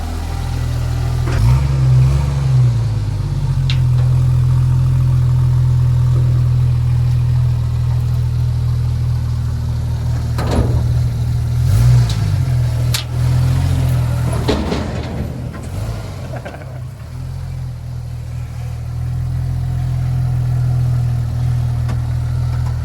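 A Jeep TJ engine runs at a steady low rumble as the vehicle creeps along, holding a constant drone with a few brief swells, fairly close throughout.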